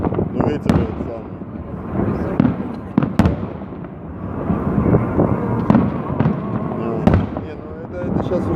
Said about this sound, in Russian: Не, ну это сейчас уже такой салют.